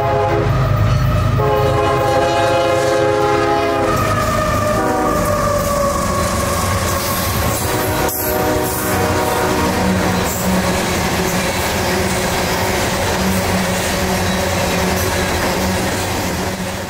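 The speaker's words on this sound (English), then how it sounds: "a Kingston coal train, 72Z, sporting, not surprisingly, some BNSF power" Norfolk Southern Kingston coal train 72Z, led by BNSF locomotives, passes close by: a loud horn blast opens, then a steady heavy rumble of engines and wagons with rolling wheel noise continues throughout, with no voices.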